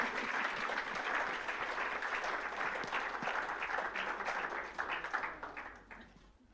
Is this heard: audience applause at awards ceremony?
yes